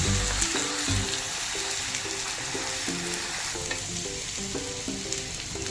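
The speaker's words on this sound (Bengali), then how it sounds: "এবারে পেঁয়াজটা দিয়ে দিলাম" Ground onion paste fries in a pan with a steady close sizzle, broken by repeated scraping stirs of a utensil across the pan and occasional louder clatters, with no one talking.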